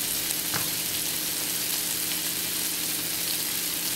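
Meat fries in a pan with onions that have already been sweated, giving a dense, steady sizzle with a brief clink near the start, close and loud.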